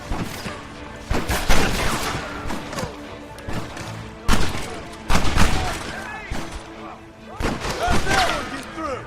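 Gatling gun fire in the Western video game Red Dead Redemption, heavy rapid bursts of gunfire in several loud volleys with short pauses between, mixed with crashes and impacts, under occasional shouted voices.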